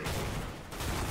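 Dense, continuous gunfire from the game CS:GO in Gun Game mode roars as one loud, sustained burst of rapid shots, with no talking.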